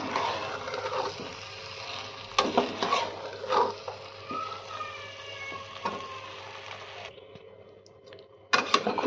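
Cauliflower and peas being stirred with spices and a little water in a pan produce a soft simmering sizzle broken by spoon scrapes and clunks, with a louder clatter at the end.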